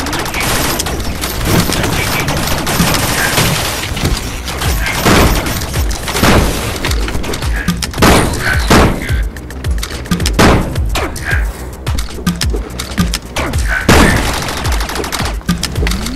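Rapid, dense gunfire in a Rec Room virtual reality shooter on Oculus Quest, with loud repeated shots and booms crackling nonstop for about sixteen seconds while players talk faintly underneath.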